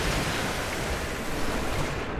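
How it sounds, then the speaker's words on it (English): Water rushing in to fill a chamber in Rise of the Tomb Raider, a steady, loud, dense wash of churning water with no break, heard alone. "Let it fill up with water."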